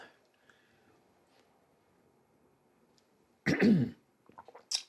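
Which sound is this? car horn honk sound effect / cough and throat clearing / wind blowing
cough and throat clearing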